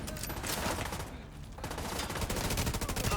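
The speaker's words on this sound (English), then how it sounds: "It's a fucking Tommy gun." A Tommy gun fires in a video game: dense, rapid automatic bursts that stay loud and close, with a brief lull in the middle before the firing resumes.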